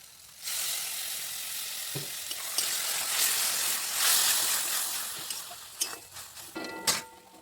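Masala of tomato and yogurt sizzles in a pan for an ol chingri (yam and prawn) dish, a steady loud frying hiss with a few stirring clinks near the end.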